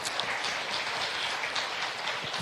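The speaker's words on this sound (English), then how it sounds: "Let's give another big round of applause," A big round of audience applause at a live science and innovation event, dense and steady clapping throughout, fairly close and loud.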